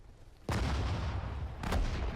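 Two heavy artillery booms from the World War II strategy game Sudden Strike 4, at the Battle of Sedan, roughly a second apart, each with a sharp crack and a rumbling tail.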